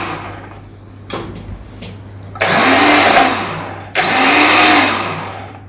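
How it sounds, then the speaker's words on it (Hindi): A kitchen blender grinds dry spices including mustard seeds in two loud bursts, each starting abruptly and whirring steadily for over a second, preceded by a few quieter clicks and handling knocks. "ये इनको मैं कर दूंगी ब्लेंड"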